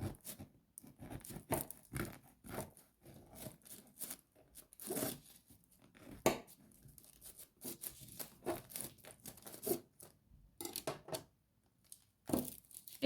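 A knife saws through a baked Viennese baguette with chocolate chips, cutting it in half with crisp, crackly crust crunches and soft tearing in irregular close bursts separated by brief pauses.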